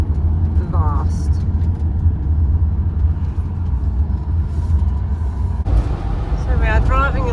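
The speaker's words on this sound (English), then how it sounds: "So we are driving along," A car drives along a road between Chester and Hoylake, a steady low engine and road rumble from inside the cabin, with a voice speaking briefly near the end.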